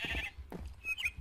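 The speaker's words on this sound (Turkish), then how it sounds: "Koyun var burada." A Minecraft sheep lets out a short bleat amid the game's ambient noise, one brief wavering cry followed by a thin tonal blip, close and moderately loud, without talking.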